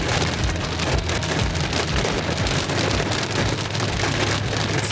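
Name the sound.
rain falling, with hail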